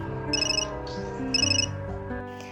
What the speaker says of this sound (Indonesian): ponsel Serena berdering